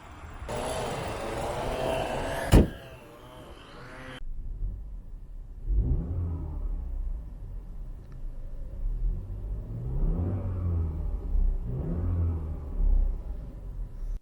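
A 2021 BMW X1 xDrive28i's 2-liter turbocharged four-cylinder engine idles and revs in a low rumble, swelling several times, after a brief burst of hiss and a sharp click at the start.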